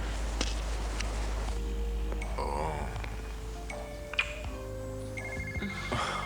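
A telephone rings indoors in a dramatic scene, with repeated electronic ring tones standing out over a low background hum and faint footsteps or movement, with no talking.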